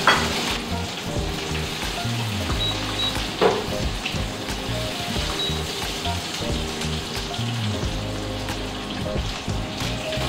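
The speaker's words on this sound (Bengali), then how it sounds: "আলুটা ভাজা হয়ে গেছে" Boiled, cubed potatoes fry in a pan with cumin seeds, giving a steady loud sizzle with occasional stirring scrapes, with no one speaking.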